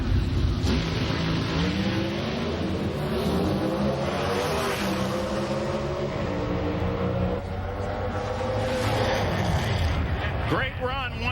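Pro Stock drag race cars roar down the track at an NHRA Mile High Nationals elimination, a loud sustained engine howl with rising pitch across gear changes, under excited commentary.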